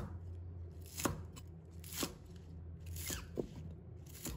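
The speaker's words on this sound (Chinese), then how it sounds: "再准备几根小葱，把它切成小段。" Green onions being chopped into short pieces with a knife on a board, several distinct chops spaced about a second apart, close and fairly quiet with no talking.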